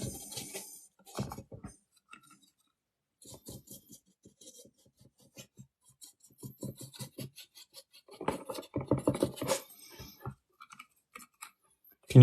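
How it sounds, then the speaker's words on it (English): Brush strokes applying brown paint onto model scenery, soft intermittent scratchy rubs and bristle sweeps in short bursts with quiet gaps, close and faint. "So give the whole thing a generous coating of brown paint"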